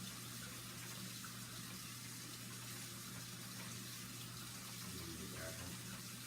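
Vaporizer parts rinsed under running tap water, a steady, fairly faint stream of water flowing without break throughout.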